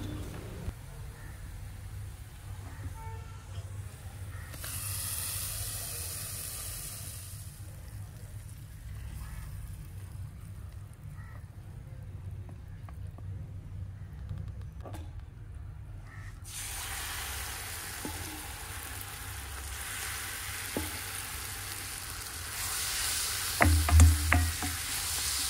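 A hot tempering is poured into palak (spinach) gravy for a Kannada mudde palya and sizzles in steady, hissing bursts. The sizzle swells midway, fades, then returns loudly and continuously, with a few clinks near the end.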